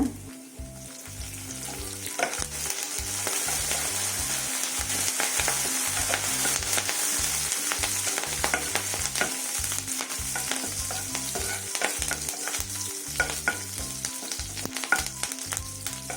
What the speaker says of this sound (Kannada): ಬೆಳ್ಳುಳ್ಳಿ ಮತ್ತು ಕರಿಬೇವಿನ ಸೊಪ್ಪು ಫ್ರೈ ಆಗ್ತಾ ಇದೆ